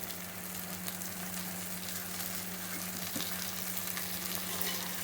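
Ingredients sautéing with a little salt in a pan for South Indian kara kulambu give a quiet, even sizzle with a faint low hum beneath, continuous and close, with no speech.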